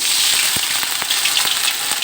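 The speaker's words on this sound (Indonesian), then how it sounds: "sekarang kita goreng ayamnya" Chicken deep-fries in hot oil, giving a loud, close, steady sizzle broken by occasional sharper pops and crackles.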